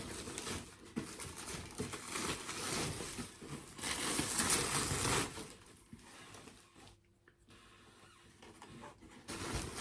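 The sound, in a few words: unpacking monitor from packaging, crinkling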